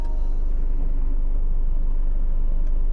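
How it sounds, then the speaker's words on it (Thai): A 2018 Isuzu MU-X 3.0 diesel SUV runs in a steady low rumble heard from close by, an even engine drone with no talking. "เราก็เหยียบเบรกนะครับ แล้วกด Engine Start หนึ่งที"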